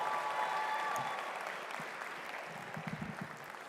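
Applause from a graduation ceremony crowd, moderately loud at first and fading, with scattered claps toward the end.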